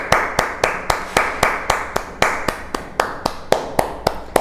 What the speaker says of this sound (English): now clap for 5 seconds